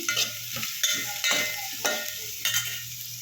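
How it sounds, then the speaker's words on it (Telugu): Onions and green chillies frying in a little oil, with repeated scraping stirs of a spoon through the pan above a steady low sizzle, close and fairly quiet. "ఉల్లిపాయ ముక్కలు పచ్చిమిరపకాయలు ఈ రెండు అనేది ఫ్రై చేసుకోవాలి"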